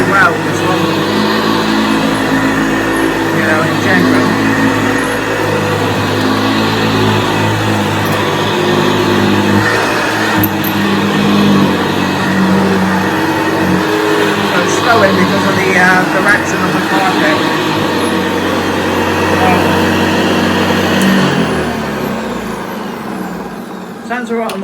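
An early-1970s Hoover vacuum cleaner runs steadily with a worn bearing, giving a constant motor drone topped by a thin whine that holds level throughout and eases slightly near the end, with a voice talking over it.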